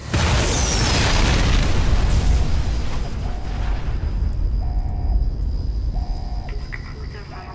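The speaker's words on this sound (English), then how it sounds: "Perhaps that's the largest explosion in the game" A huge explosion at Helios One in a video game erupts as a loud, sustained roaring blast with rumbling low end that slowly trails off, while faint repeating electronic tones sound beneath it.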